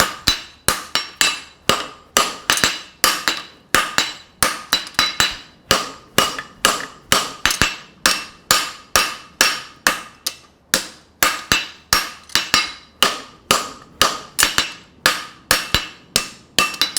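A hammer strikes a steel horseshoe on an anvil during hand forging of a hind preventer shoe, a steady run of sharp ringing blows about two per second, close and loud, with no talking.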